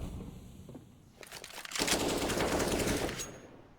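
A rapid spray of rifle fire in a competitive tactical shooter esports match, a loud continuous burst of about a second and a half following quieter ambient game sounds.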